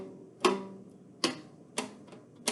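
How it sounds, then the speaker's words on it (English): Homemade guitar made of rubber bands stretched over a bread pan, plucked four times at an even slow pace, each a short twangy snap that fades quickly, close and quiet with no talking. "And this is just a bread pan with rubber bands"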